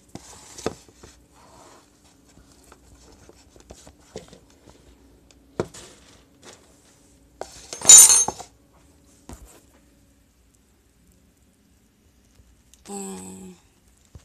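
Spoons, cutlery and dishes handled in a kitchen, sparse scattered clinks and taps spread out over a quiet stretch, with one louder rattling clatter in the middle and a brief scrape near the end, no talking.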